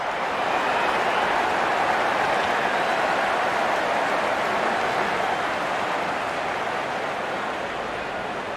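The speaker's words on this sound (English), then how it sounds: "Out come the openers, cheered by a good crowd in." A crowd cheering at a cricket video game match as the openers walk out: a steady, dense wash of distant roaring and clapping that holds evenly throughout.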